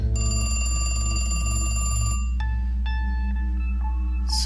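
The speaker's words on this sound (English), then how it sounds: "I really want to answer that phone first." A telephone rings with a steady electronic trill in The Cat Lady video game, then breaks into several separate rings over a constant low hum.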